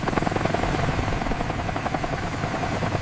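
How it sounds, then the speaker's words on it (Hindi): A helicopter flying over a forest, its rotor thumping steadily and loudly throughout, a continuous chopping drone with no voices. "जंगल के ऊपर एक हेलीकॉप्टर उड़ते हुए नजर आता है"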